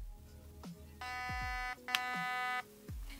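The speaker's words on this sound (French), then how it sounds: "Donc j'attends qu'il y ait deux bips." A Grand Power R15 airsoft pistol gives two distinct electronic beeps during programming, each a sustained buzzy tone of about a second, quiet and close, with faint mechanical clicks around them.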